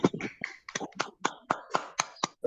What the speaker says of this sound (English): let's hear more of those claps